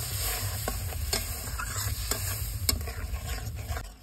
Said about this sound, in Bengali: দিয়ে একটু ভালো করে কষিয়ে নেব